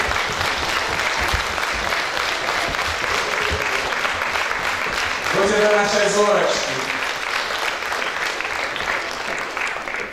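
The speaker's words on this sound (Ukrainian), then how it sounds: "Громко им аплодируют." Audience applause for children on stage at a Christmas carol concert in Hlybokaye, steady broadband clapping throughout with a brief swell mid-way, a voice speaking over it.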